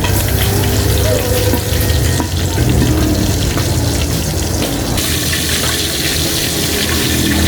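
Bangus (milkfish) frying in oil for breakfast, a loud, close, continuous crackling roar of spattering fat that barely changes, briefly dipping midway, with no voices.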